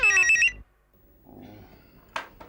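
Telephone ringing indoors in a Hindi TV drama scene: a short electronic ring burst that cuts off abruptly, followed by faint rustling and a brief sharp click or handling noise.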